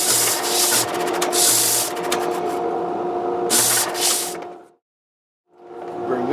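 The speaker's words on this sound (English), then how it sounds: "I do use this disc sander for the final kind of press fit." A disc sander grinds wood to press-fit a Gibson guitar neck, a loud close rasping whir with repeated rubbing strokes, cutting out abruptly for a moment before spinning back up.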